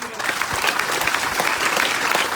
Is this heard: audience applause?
yes